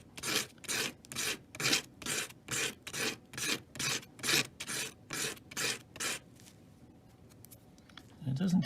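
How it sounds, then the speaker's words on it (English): Tip pushed across 220-grit sandpaper in about twelve steady rasping strokes, close and even in rhythm, then a brief quiet stretch before faint handling noise. "You can just use a piece of, in this case it's 220 sandpaper."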